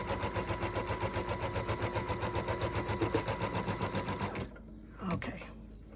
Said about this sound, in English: I'm stitching on the tape, but the tape will be easily removed